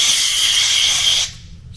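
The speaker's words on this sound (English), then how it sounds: "I'm going to give that a really good spray, get all the stuff out of there." Hard continuous hiss of cleaner sprayed into a GX-7 spray gun, loud and close, cutting off abruptly after about a second to a faint background.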